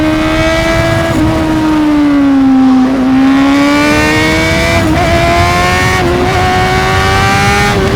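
A 650 motorcycle accelerates hard nearby, a loud continuous engine drone with strong tonal harmonics whose pitch dips briefly and then climbs steadily through the gears.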